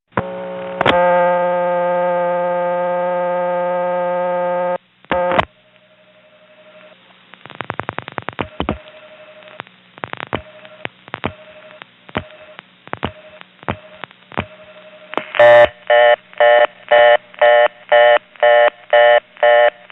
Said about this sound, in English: On this next call, I dial 1 plus one of those routing codes within eastern Massachusetts just to see if it might work here.